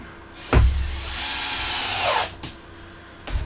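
A power drill drives a screw into wood in a cabin renovation, one sustained whirring run of about two seconds that bogs down slightly as it seats, followed by a short click and another brief burst, close and loud.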